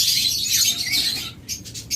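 Caged cockatiels and lovebirds at a pet bird sale keep up shrill, overlapping chirps and squawks, close by, ending with a few quick sharp calls.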